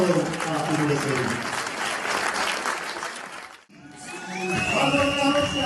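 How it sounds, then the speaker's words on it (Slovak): Audience applause for young riders being honoured at a children's show jumping event in Pezinok, a dense steady clapping that briefly breaks off near the end and then resumes under a voice talking. "Takže potlesk pre všetkých víťazov a umiestnených."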